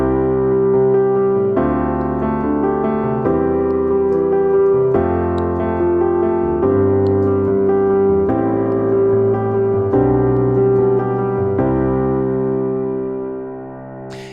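Piano with steady, repeated chord hits falling on beats one and three, shifting chords every couple of seconds in a continuous pattern that fades at the end, with no talking.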